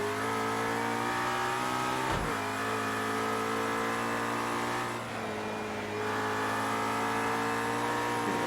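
A race car engine in the video game Project Cars 2 drones steadily at high revs, with brief dips as gears shift, loud and continuous throughout.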